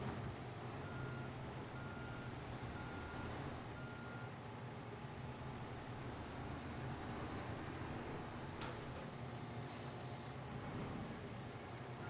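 A reversing truck in Construction Simulator 3 sounds evenly spaced beeps over a dense, steady engine and machinery drone that fills the scene, with no talking.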